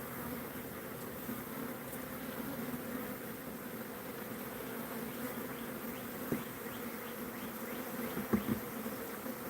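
Steady buzzing hum of a honeybee swarm gathering on hive foundation, continuous and fairly close, with a few brief louder knocks late on and no talk.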